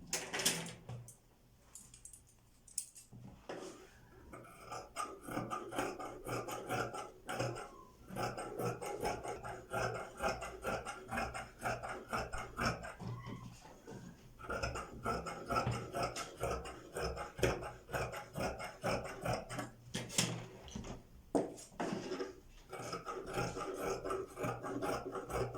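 Scissors cut through skirt fabric in a rapid, rasping series of close snips and rubbing strokes, steady and fairly quiet, with brief pauses between runs.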